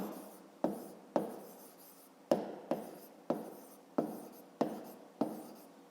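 Someone writes out a fifth-grade maths exercise by hand, a run of about nine short scratchy strokes in a steady rhythm, each starting sharply and fading, close up and alone in a quiet room.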